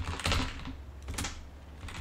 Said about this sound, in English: I'll start typing in here, docker, sudo docker attach.